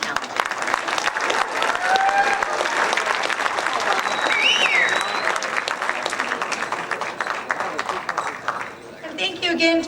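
Applause fills a school academic awards night after student art honourees are named, a long steady crowd clapping that tapers off near the end as voices break through.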